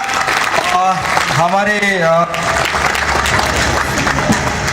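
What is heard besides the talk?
applause welcoming a guest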